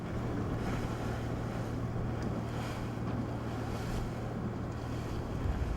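Wind streams over a Salona 44 sailing yacht under way on a breezy day of roughly 17 to 18 knots: a steady, close rushing roar with microphone buffeting and a faint low hum beneath, unbroken throughout.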